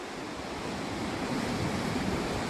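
Waves breaking on a Puerto Rico beach where steps lead down to the water, a steady broadband wash of surf with some wind, continuous and fairly loud, with no speech.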